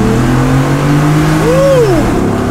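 A tuned, lifted Ford F150 with a 5.0 engine launches hard, the engine roaring up in pitch with a sweeping rev that swells and drops back, loud and close from inside the truck.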